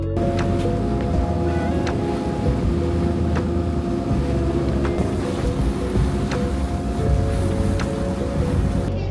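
A ferry boat on the water in Venice, with a steady low engine rumble and water wash running continuously throughout, broken by a few faint clicks and knocks.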